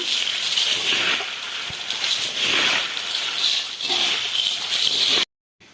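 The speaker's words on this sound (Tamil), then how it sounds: "இப்போ நம்ம நல்லா மிக்ஸ் பண்ணி விட்டுக்கலாம்." A crunchy homemade South Indian snack mixture being tossed together in a bowl, a continuous dry rustling and rattling of small pieces that swells and eases with each stir, then stops abruptly near the end.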